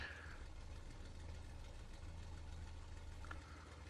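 The idling engine of a Bf 109 K-4 fighter in the flight simulator DCS makes a faint, steady, low rumble that runs unbroken throughout, with a brief higher tone near the end and no voices.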